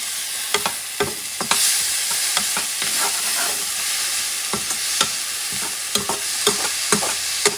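Grated tomato is stirred in a cooking pot over a steady hiss of frying, with repeated scraping spoon strokes at an irregular rhythm, close and moderately loud.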